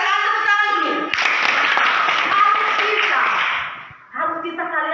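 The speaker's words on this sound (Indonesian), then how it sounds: "Tepuk tangan dulu." A classroom of students clapping together in a short burst of dense applause, starting after a spoken voice and fading out before talking resumes.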